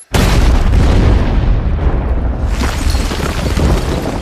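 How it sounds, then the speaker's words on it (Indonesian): A sudden loud explosion in a James Bond film hits at once and becomes a deep, roaring rumble that stays heavy and sustained for several seconds. "beruntung Bond selamat dari ledakan tersebut"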